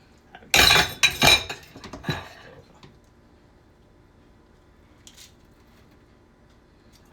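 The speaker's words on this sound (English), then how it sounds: "I grease this pan." Metal utensils scrape and clink against a small loaf pan being greased for banana bread, a burst of loud close clatter followed by quieter scattered taps and then near silence.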